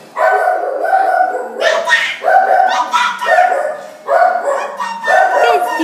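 A dog barks repeatedly up close, loud sharp barks in irregular bursts with some yelping tones between them.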